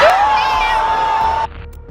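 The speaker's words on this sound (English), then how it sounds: "The whole crowd went berserk." An excited crowd goes wild, led by one loud, sustained whooping shout that rises and holds before cutting off, with a rougher, noisy crowd background underneath.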